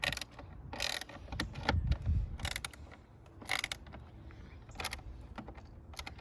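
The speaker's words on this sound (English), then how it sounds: "you can use the ratcheting movement or just normally do it" A ratcheting tool tightens the clamp on a K&N air filter in a 2018 MINI Cooper S engine bay, giving bursts of quick clicking ratchet strokes with pauses and faint handling noise between them, close and with nobody speaking.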